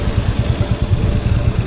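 Motorcycle engine running steadily while riding a rough uphill mountain road toward Khongtang, a low throbbing chug with clattering texture, close and continuous with no talk.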